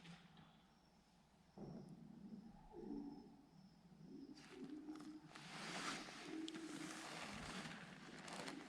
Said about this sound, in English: They're a pest, aren't they, pigeons?